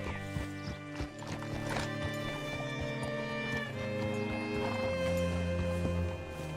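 Steady clip-clop of horse hooves plods along beneath a layered musical score in Red Dead Redemption 2, with a horse whinnying briefly.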